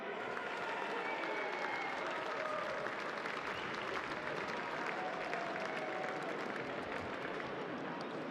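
Crowd applause at a WAFL football grand final, a continuous distant roar of clapping and cheering from a large stadium crowd, even and sustained throughout.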